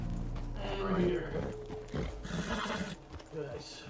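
A horse whinnies and its hooves clop in the Red Dead Redemption video game, the neigh rising midway through a busy, layered game soundscape with steady background noise.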